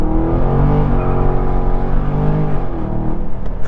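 The engine of a Dodge Charger Scat Pack muscle car pulls hard under throttle, a loud, dense, close drone heard from inside the car, its pitch swelling and easing slightly over a few seconds.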